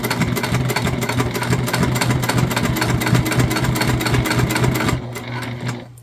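A sewing machine stitches a Zora shoulder bag, a steady, loud, close, rapid mechanical chatter running for several seconds before slowing and stopping.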